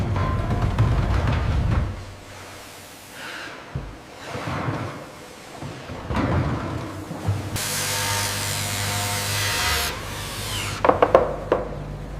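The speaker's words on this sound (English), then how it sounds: "The buffing wheel is coated with a precise abrasive compound, preparing the metal casing for the Sputnik's final assembly." A buffing wheel polishes an aluminum-magnesium alloy metal casing coated with abrasive compound, giving a steady rubbing, rasping grind that swells into a bright, hissing stretch before a few sharp clicks near the end.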